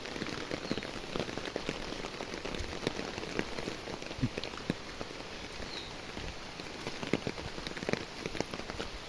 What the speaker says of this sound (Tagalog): Tapos biglang umulan.